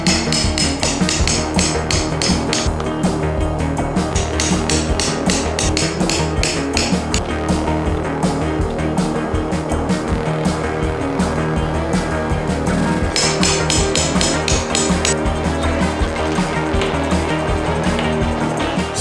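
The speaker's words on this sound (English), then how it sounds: "punch a hole through the weather stripping that'll be the exact size as the standoffs and the bolt" A punch is hammered through weather stripping on a 3rd gen Toyota Tacoma, with rapid, steady metallic strikes repeating loudly and closely for the whole stretch, no talking.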